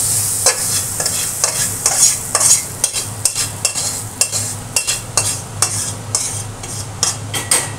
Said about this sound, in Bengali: চলো দিয়ে দিই এই ডালের ভিতর এই ফোড়নটা।